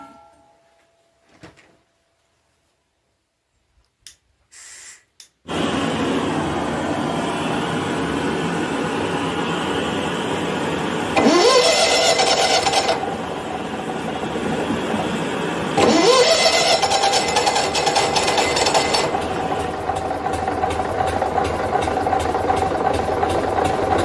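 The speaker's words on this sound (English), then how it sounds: "She's getting lots of RPM. She should fire up, but she's not." A Gardner engine cranks hard with a steady, loud churning whir that runs on for many seconds without catching, with two brief surges where it seems about to fire, after a few quiet knocks at the start.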